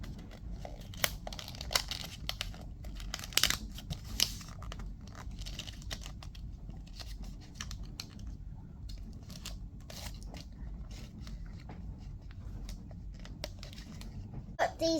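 Paper offcuts being folded and creased for an origami Halloween pumpkin candy bucket, soft crinkling and scattered crisp rustles close to the microphone, with a few sharper crackles among quieter handling.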